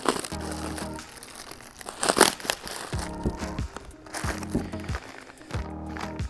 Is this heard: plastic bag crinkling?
yes